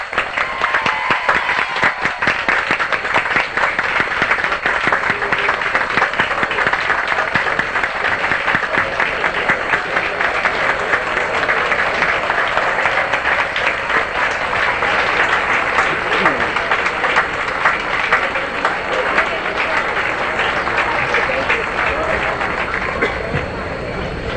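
Sustained applause from a large commencement audience honoring the graduates' parents, a dense, steady roar of clapping that fills the hall for over twenty seconds, with crowd murmur mixed in.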